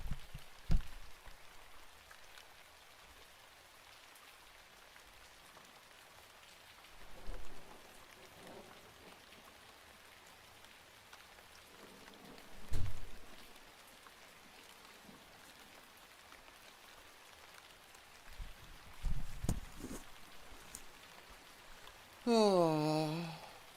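Steady rain falls in a soft continuous hiss, fairly faint, with a few louder patters and bumps rising above it now and then.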